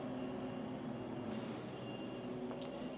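RV units being moved around a dealer lot, a steady low rumbling engine drone in the background with a brief hiss, like an air brake, near the end.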